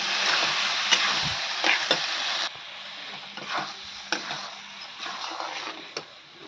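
Ground cumin and garam masala powder sautéing in a pan, a steady dry hiss of frying with scraping stir strokes, louder for the first couple of seconds then settling into a softer sizzle.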